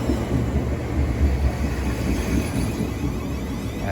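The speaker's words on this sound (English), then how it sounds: "700 108 now departs where it's down for Horsham from Peterborough" A Class 700 electric train departing a London terminus for Horsham gives off a loud, steady rumble and rolling rail noise, close by and continuous, without any talk.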